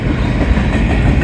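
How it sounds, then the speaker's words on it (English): Union Pacific 7247 freight locomotive hauling an outbound manifest train at Lindsay Road, a loud, steady rumbling roar close by with rolling rail noise, no voices. "Right there was revving the engine"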